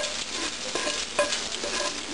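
Onions fry in a pan with a loud, steady sizzle and occasional light scrapes from stirring.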